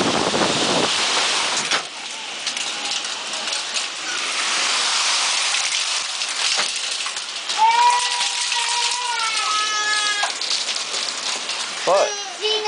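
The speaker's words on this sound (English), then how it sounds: "Check out this typhoon." Heavy typhoon rain pours down in Kyoto, a steady loud wash of drops on surfaces with gusting wind throughout, while people talk and shout excitedly over it.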